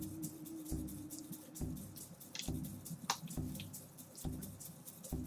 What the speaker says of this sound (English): there must be a lake dumping that water off down there